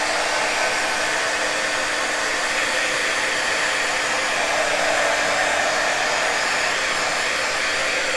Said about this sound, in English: I'm going to dry it just a little bit with the heat tool here